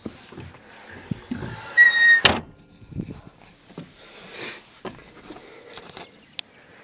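Cab door on an 850C machine with a three-barrel ripper swinging open as someone climbs in, a sharp latch clunk followed by scattered thumps, creaks and shuffling close by.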